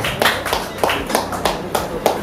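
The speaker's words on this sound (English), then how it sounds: "Let us welcome him to the stage with a rounding sound of applause." Audience clapping to welcome a speaker at a Beepmagnet Group launch event, a modest, uneven round of applause with distinct claps standing out, heard close and fairly loud.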